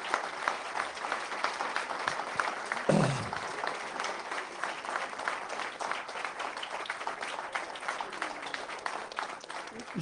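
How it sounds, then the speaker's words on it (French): Audience applause for the organizers at a French conservation agriculture conference, a dense, even clapping from a room of people lasting throughout, with a brief voice rising over it early on. "On peut les applaudir, là, toutes les petites mains là"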